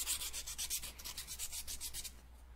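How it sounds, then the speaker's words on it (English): Hand sanding roughens the surface of an epoxy sculpt for a designer toy, giving a steady, close scratchy rubbing in quick repeated strokes that fade slightly toward the end, with no voices. "You just want to roughen up this surface"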